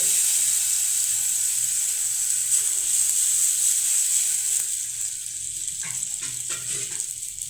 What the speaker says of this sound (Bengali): এই যে এখন কিন্তু পরিমাণ মতো জল দিয়ে দেওয়া হচ্ছে।